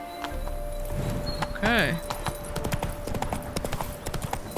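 Roach, Geralt's horse in The Witcher 3: Heart of Stone, lets out one clear, wavering neigh midway through a run of rhythmic hoof clops, with a voice and other game sounds around it.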